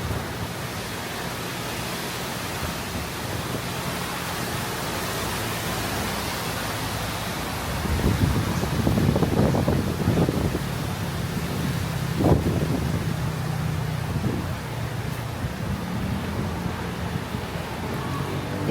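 Strong typhoon wind roars steadily through an outdoor scene where a motorbike sits under a black cover near trees, with heavier gusts swelling in the middle of the stretch.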